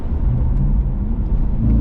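A modified Audi B7 RS4 engine idles with a deep, steady rumble close by, a throaty low drone with no voices.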